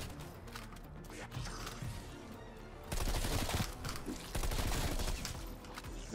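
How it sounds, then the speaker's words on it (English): A Scorcher gun fires in Call of Duty Cold War Zombies, dense bursts of rapid, loud gunfire in two heavy stretches with quieter mechanical clatter between them. "I'm gonna use my scorcher gun"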